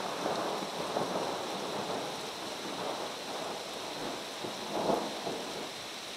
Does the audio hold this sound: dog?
no